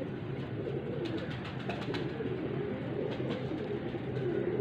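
Golden pigeon cooing softly and continuously, close by, with low murmuring coos over a steady background hum and no talk.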